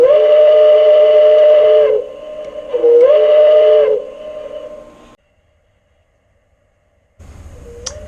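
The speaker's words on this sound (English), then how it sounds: "We'll hit the whistle button here." An MTH EP-5 model locomotive sounds its Hancock air whistle in two long, loud, steady chord blasts with a brief dip between them. A quieter tone follows, then silence, then a fainter tone returns with a short high chirp.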